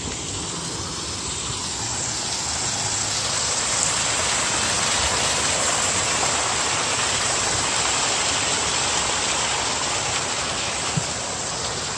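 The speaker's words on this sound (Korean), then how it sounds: "폭포인데 밤이야." A waterfall roars at night in a dense, continuous hiss of falling water, loud and unbroken throughout, heard on an evening walk with no talking.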